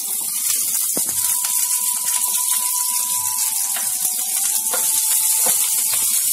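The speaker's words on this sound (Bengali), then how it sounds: "এই তেলে আমি কপিগুলো আগে ফ্রাই করে নেব।" Cauliflower florets frying in a little hot refined oil in a nonstick pan give a steady, even sizzle that holds at the same level throughout, with a few faint clinks and a thin tone running across the middle.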